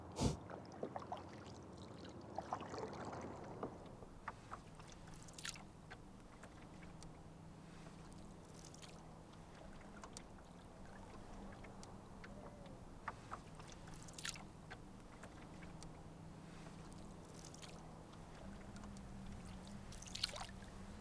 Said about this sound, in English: Really easy paddling at the moment.